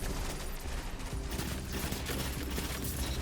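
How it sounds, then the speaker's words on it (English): A scatter grenade detonating in Destiny 2, a dense rapid crackle of many small overlapping blasts that stays loud and steady throughout. "Throw a little scatter nade over here."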